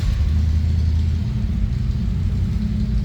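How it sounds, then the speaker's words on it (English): A 1963 Ford Thunderbird hardtop's 390 V8 idles in neutral with a deep, steady, close rumble and slight throttle swells, with no talk over it. "A little rumble coming out of that V8 power."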